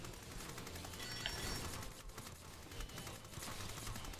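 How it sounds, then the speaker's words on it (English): Sniper gunfire rings out in Sword Art Online: Fatal Bullet, a steady crackle of shots over a busy, fairly quiet battle soundscape, with no talking. "These snipers are definitely doing damage."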